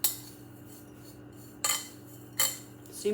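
A spoon stirs chicken tender ingredients together in a bowl, giving three sharp scraping clinks spaced over a few seconds against a low steady hum, with no talking.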